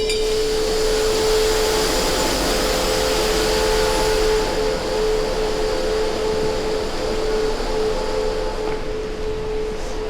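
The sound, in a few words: compressor blowing quartz sand out of silo truck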